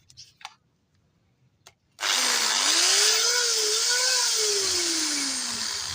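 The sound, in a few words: electric drill running on 220 volt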